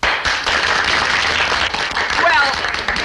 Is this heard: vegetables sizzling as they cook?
no